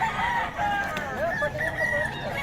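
A Sweater Kelso gamefowl rooster crows at a busy market, a clear drawn-out cock-a-doodle-doo with some clucking, close by over faint crowd murmur.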